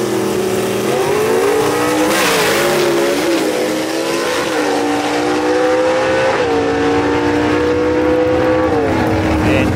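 Gasser drag race cars roar down the Knoxville Dragway strip, engines loud and continuous with rising and falling revs, and an announcer's voice rides over the noise.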